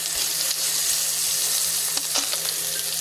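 Fried bulig fish being sautéed in a pan, a loud continuous hiss and sizzle with a low steady hum beneath and a couple of brief clatters from stirring.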